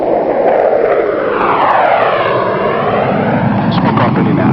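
A USAF Thunderbirds F-16 jet fighter makes a maximum climb from ground level, its loud close roaring thrust sweeping in pitch as it passes and pulls away, with a narrator's voice talking over it.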